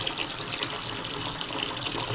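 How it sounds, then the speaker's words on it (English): Water runs from a newly installed faucet in a steady, close, even rush that holds without a break from start to finish. "You want to release the water"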